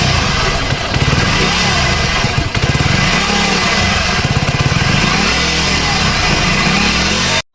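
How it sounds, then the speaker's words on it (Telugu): A Hero HF Deluxe motorcycle with a worn timing chain runs loud and close, its engine chugging in a steady rapid beat with a rattly edge before cutting off abruptly. "మనకి ఇంజన్లోంచి టైమింగ్ చైన్ పోయిన సౌండ్ అయితే పూర్తిగా అయితే వినిపిస్తుంది"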